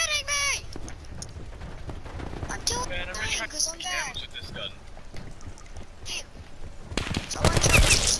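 Gunfire in the shooter Black Ops 4 breaks out in sharp bursts, heaviest in a loud volley at the close, while someone talks over much of the action.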